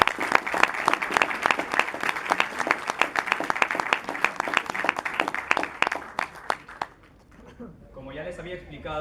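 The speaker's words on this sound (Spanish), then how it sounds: "Fuertes aplausos para nuestros 3 ponentes" An audience at a university debate on physics and God claps steadily and warmly, dense applause that fades out near the end, with voices coming in under it.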